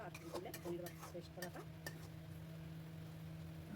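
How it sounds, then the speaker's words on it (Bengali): Spice paste for potol posto being stirred in a pan, giving soft scraping and clinking utensil-against-pan sounds in an uneven rhythm over a steady low hum, fairly quiet. "মশলাটা কন্টিনিউয়াসলি নাড়তে থাকবেন, না হলে কিন্তু এটা নিচে লেগে যেতে পারে।"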